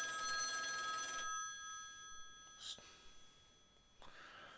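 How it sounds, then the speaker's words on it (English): A telephone bell rings loudly for about a second with a bright metallic trill, then stops, followed by a couple of faint clicks and rustles in a quiet room. "Phone ringing."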